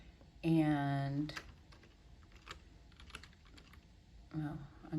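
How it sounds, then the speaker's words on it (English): Typing on a keyboard into a Word document on an iPad, a run of soft quick key clicks between stretches of a voice talking at the start and end. "now you could just start typing and you would type your name"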